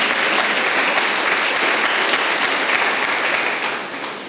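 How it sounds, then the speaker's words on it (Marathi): An audience at a church service breaks into sustained applause, a loud dense wash of many clapping hands that holds steady and then begins to fade near the end. "छान वाटलं तुम्ही टाळ्या वाजवल्या."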